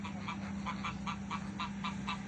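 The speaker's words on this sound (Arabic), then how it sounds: "بصوا الوز ده وز طبعا، ده وز بلدي اهو" A run of nasal honks repeats in a steady rhythm, a group of domestic Egyptian baladi geese calling over a constant low hum.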